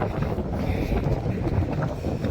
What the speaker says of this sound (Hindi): काफ़ी तेज़ हवा चल रही है, शायद हवा का प्रेशर पड़ रहा है